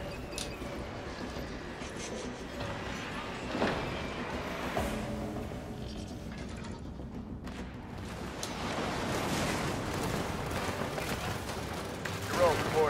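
Gunfire from a Warthog barrage in the real-time strategy game Halo Wars, a dense, continuous battle clatter with scattered louder bursts layered over busy game effects for the whole stretch.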